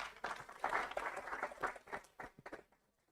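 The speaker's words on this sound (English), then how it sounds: "Round of applause, another one." Applause for panelists at a domain name system forum in Kenya, a short burst of clapping from an audience that fades out over about three seconds.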